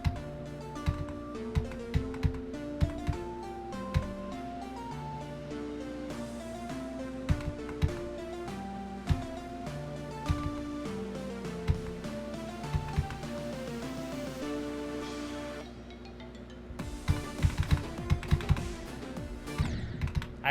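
Computer keyboard keys clicking in rapid bursts and single taps during a Geometry Dash session, close and crisp over a loud, continuous electronic game soundtrack.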